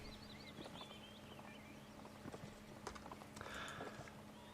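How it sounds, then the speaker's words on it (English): Rhythmic clip-clop of horse hooves in the video game Mount & Blade at moderate distance during a line battle, steady and fairly quiet beneath a low constant hum and scattered background noises. "Now, this random horse is still getting around."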